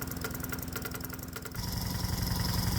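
Hot bulb semi-diesel lawnmower engine running on gasoline and struggling, a low, uneven chugging idle that shifts to a louder, rougher rhythm partway through, close by with no voices.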